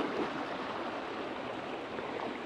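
Water flows steadily into a carp fishing pond at its inlet, making a continuous, soft rushing stream sound with no voices over it.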